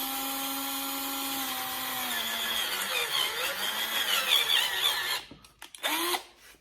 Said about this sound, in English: mine didn't come out, so we're going to drill it